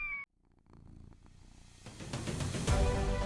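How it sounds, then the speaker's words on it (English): A cat purrs close by, a soft rhythmic rumble that starts quietly and grows steadily louder, preceded by a brief sharp tone that cuts off. "We all know that rumbling sound that erupts from our cats like a tiny motor."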